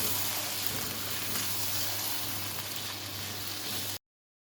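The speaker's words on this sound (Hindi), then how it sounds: "अब इसको हम अच्छी तरह से दोबारा से मिक्स कर लेंगे" Chicken karahi with yogurt sizzles steadily in a pan as it is stirred, producing a soft continuous frying hiss with a low hum beneath it. The sound is fairly quiet and uninterrupted, then cuts off abruptly.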